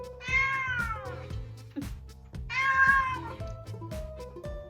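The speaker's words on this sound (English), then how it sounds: "No, play a cat sound." Cat meowing, played back through a smart speaker: two drawn-out, rising-then-falling meows over a softer rhythmic background of repeated thumps and low tones, close and clear.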